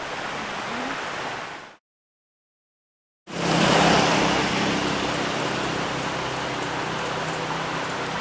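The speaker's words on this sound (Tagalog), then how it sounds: "There's a river down there." A river flows far below a viewpoint near a church in the Philippines, its broad, steady rush of water filling the scene before and after a brief gap of silence.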